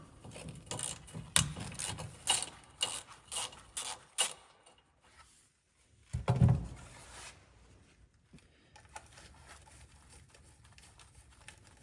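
A ratchet cracks loose the stator cover bolts on a Yamaha RMAX, giving a run of sharp clicking bursts, a pause, then a heavier metallic clunk followed by softer intermittent ratcheting.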